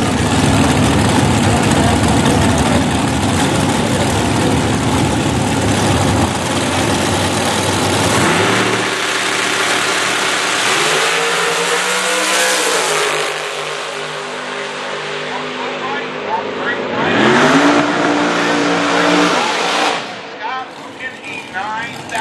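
Top Dragster drag race cars at an LVD LODRS 2015 elimination round roar down the track at over 180 mph. A loud, sustained engine blast shifts pitch as they pass, with a commentator's voice over it.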